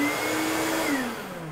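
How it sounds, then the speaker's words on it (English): A workshop vacuum hooked up to a miter saw and switched by a foot switch whines loudly and steadily, then its pitch drops as it starts to wind down near the end. "I do have a foot switch for my vacuum."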